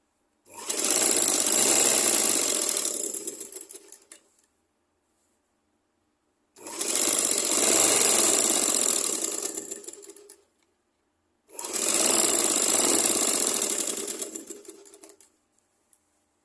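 A sewing machine stitches a petticoat in three long, even runs of rapid needle chatter, each about three seconds, separated by silent pauses; close and loud.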